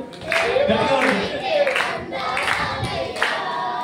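A church congregation at an anniversary worship service claps in a steady rhythm, about one clap every three quarters of a second, with voices talking over it.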